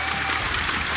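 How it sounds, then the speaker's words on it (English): An esports arena crowd at the 2019 Raleigh Major Dota 2 playoffs breaks into dense, loud applause, a steady wash of clapping and cheering that swells within the first moment and holds for the full second. "please give a round of applause for these 2 fantastic teams"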